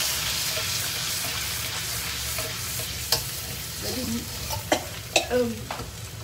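Chilies sizzle in hot oil left from frying beef lung as sambal cooks in a pan, a steady close frying hiss with a few sharp clicks and scrapes of stirring.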